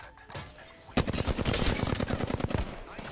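Rapid automatic gunfire in the Apex Legends battle royale game, Season 6: loud, dense bursts of shots that start abruptly and keep firing steadily for a couple of seconds after a brief quieter lead-in.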